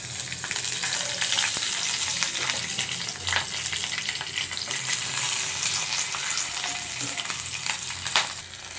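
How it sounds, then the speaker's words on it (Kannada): Green chilies sizzle and crackle steadily in hot oil, with occasional sharp pops and a stirring scrape. "ಇವಾಗ ಮೆಣಸಿನ್ಕಾಯಿ ಹುರ್ಕೊತೀನಿ ನೋಡ್ರಿ"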